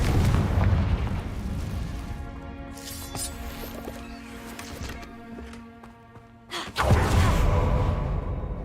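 A Confringo blasting spell in Hogwarts Legacy erupts as a deep, booming explosion at the start and again near the end, with tonal game effects and ringing tones between the two blasts.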